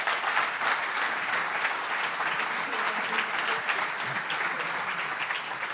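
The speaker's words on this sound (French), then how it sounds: "un tonnerre d'applaudissements, s'il vous plaît" An audience at the 100th Café Numérique gathering in Liège gives a loud, sustained burst of applause, dense and steady from start to finish with no voices standing out.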